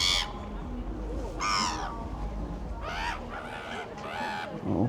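Crows caw in loud, harsh bursts at the Swiss-German border in Konstanz, several calls spaced a second or so apart over a steady outdoor hum.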